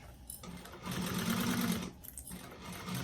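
A sewing machine backstitches a 3/8-inch seam on a small fabric bag. The close, steady motor whir speeds up and slows in stretches, and no speech is heard over it.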